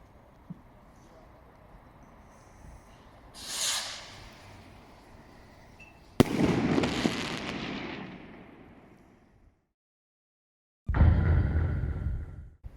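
Fireworks being set off outdoors in Bilbao, Spain: a sharp nearby bang bursts into a long fading crackle and rumble, followed after a brief silence by another loud burst, with an earlier fainter whoosh and background murmur.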